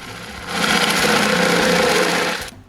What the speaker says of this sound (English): On the table itself, I drill a half hole.